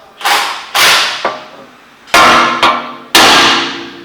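A hammer strikes the steering knuckle of a 2010 Honda Accord to free the front axle: six sharp metallic blows in uneven pairs, each ringing briefly before the next, loud and close with no talk.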